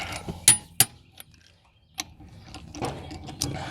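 A hand wrench tightens lug nuts on a 1999–2004 Ford Mustang rear wheel, one stud broken off, giving a few crisp, close ratcheting clicks separated by quiet pauses, with no talking.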